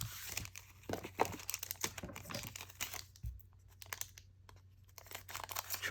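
A foil Pokémon card booster pack, a Japanese Scarlet set, is torn and crinkled open up close, with crisp irregular crackling rustles that thin out toward the end.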